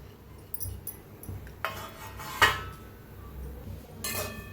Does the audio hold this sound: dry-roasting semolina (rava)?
yes